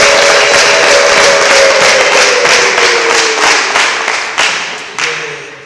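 A church congregation claps together in dense, sustained applause that thins toward the end, with a few louder isolated claps near the close and voices faintly beneath.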